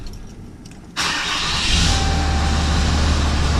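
The 6.7 Cummins diesel in a 4th-gen truck cranks, then suddenly catches with a loud roar. It settles into a steady, rumbling idle that is heavy in the low end and sits close by, after a head gasket replacement.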